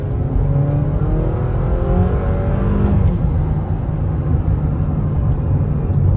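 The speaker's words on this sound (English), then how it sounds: "Engine definitely has a nice noise" A 2024 Honda CR-V Hybrid Sport L engine accelerates at full throttle with a steady, loud drone. The tone climbs gradually under road and wind noise, and no one talks.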